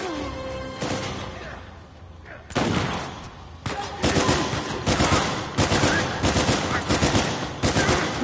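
Gunfire from the Uncharted 4: A Thief's End video game comes in loud, rapid bursts and fusillades. Dense automatic shooting repeats over several seconds with short gaps between volleys.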